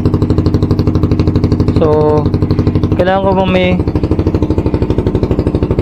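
A motorcycle engine idles loud and close with its silencer removed and the fiber muffler packing under rework, a rapid steady rasping putter while someone speaks briefly over it.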